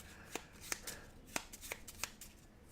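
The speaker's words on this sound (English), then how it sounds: "We got a little shuffle going on now." A deck of playing cards is shuffled up close during a solo tabletop game of Arkham Horror: Final Hour, giving several quick, crisp riffling bursts with short pauses between them.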